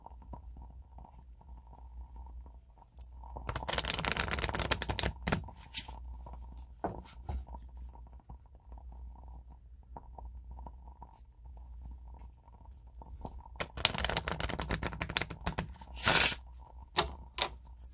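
Slippery tarot cards being shuffled in two bursts of dense riffling and slapping, close and crisp, separated by a quieter stretch of soft handling.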